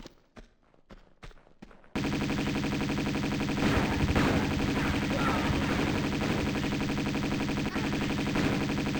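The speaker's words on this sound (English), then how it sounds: "Shooting the corpse, as always" Lara's gunfire in Tomb Raider 2 at a monastery tomb: a few sharp separate shots open the clip, then a loud, dense and continuous rattle of shooting mixed with game sound runs to the end, with no talk.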